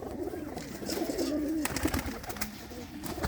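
Pigeons coo in overlapping low warbles close by, a continuous burbling with a few sharp rustling clicks and taps mixed in, as if birds are being handled nearby.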